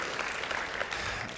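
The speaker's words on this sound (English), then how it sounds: "Yes, please clap it up for that." Crowd applause at a Maryland FFA Foundation showcase, a dense, even patter of many hands clapping throughout, fairly soft in level.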